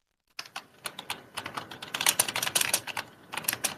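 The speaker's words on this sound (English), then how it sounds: "sorry about the typing sounds as well." Fingers type on a computer keyboard close to the microphone, a quick irregular run of sharp clicking keystrokes starting after a brief silence and continuing steadily, with occasional heavier key presses.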